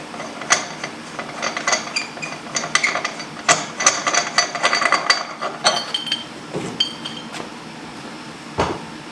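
A wheel being taken off a car's right rear rim, heard as a run of metallic clanks, knocks and ratcheting clinks at close range, dense in the middle and thinning toward the end.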